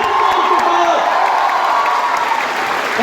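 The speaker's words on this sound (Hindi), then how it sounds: "एक बार जोरदार ताली होना चाहिए" A crowd at a Kolkata training recognition event claps and cheers loudly, a continuous wash of applause and whoops while a voice speaks over it near the start.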